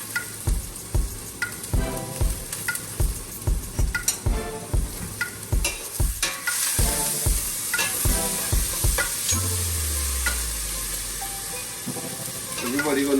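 Chicken for stew sautéing in a pan, a run of rhythmic scraping stirs over steady sizzling, then a longer continuous frying hiss; loud and close, with no one speaking.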